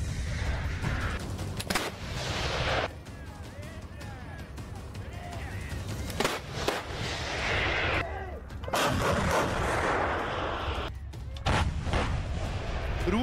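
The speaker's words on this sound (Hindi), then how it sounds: "परमाणु बम गिराने वाली रूस की ये तोप कैसे आग उगलती है," Russian 2S7 self-propelled artillery cannon firing shells: repeated heavy booms and blasts at irregular intervals, loud and fairly close, mixed with rumbling and background noise.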